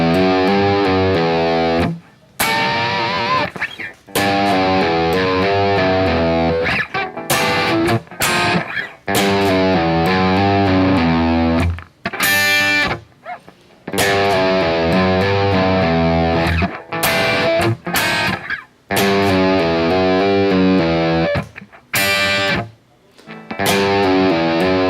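An electric guitar with heavy distortion plays the bridge of a song as loud, chugging chords and riffs in a steady rhythm, with brief gaps between phrases, close and alone.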